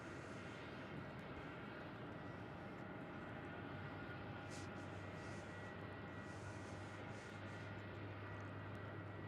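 Airbus A321neo at Melbourne Airport, a steady broad engine roar with a low droning hum underneath, continuous and fairly faint at a distance, with no talking.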